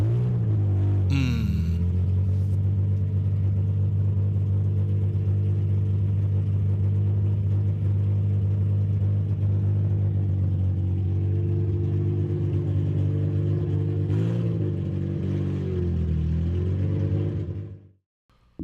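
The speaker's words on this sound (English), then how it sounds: "hear that NA2J open header misfire one last time before it goes" A Lexus GS300 with a naturally aspirated 2JZ engine idles through an open header, its loud, low, uneven misfiring rumble running steadily with a couple of brief blips before it cuts off near the end.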